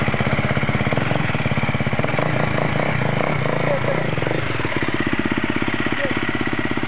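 A KTM 450 XCF dirt bike engine running nearby, a loud, steady, rapid single-cylinder thrum idling with slight shifts in pitch, while people talk over it.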